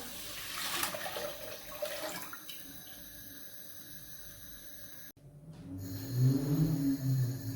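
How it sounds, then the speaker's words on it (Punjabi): A kilo of milk is poured into a cooking pot for custard, a continuous liquid stream heard close, followed by a brief break and a bubbling, sloshing fill. "ਕਿਲੋ ਦੁੱਧ ਆਪਾਂ ਪਾ ਦਾਂਗੇ ਇਹਦੇ ਵਿੱਚ"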